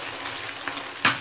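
Egg mixture sizzles on a lightly oiled griddle, a close, continuous crackling hiss with a couple of brief louder spatters.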